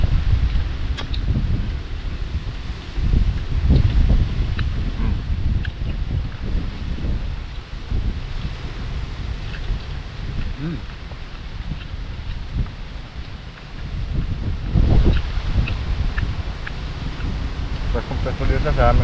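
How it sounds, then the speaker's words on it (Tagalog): Wind gusting outdoors during open-air cooking, a steady broadband rush with buffeting surges against the microphone, punctuated by occasional thumps and brief voices. "Hangin."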